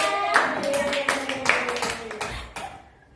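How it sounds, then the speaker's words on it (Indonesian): A short round of applause from a class group, scattered claps fading out after a few seconds, with faint voices mixed in. "tepuk tangan untuk Mbak Aziza."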